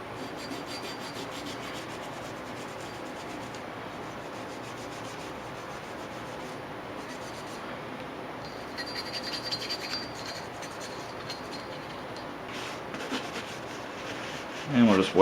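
A cloth wipes down an AR-15 bolt with soft, steady rubbing that carries on evenly and fairly quietly, with a few slightly louder scrapes near the end.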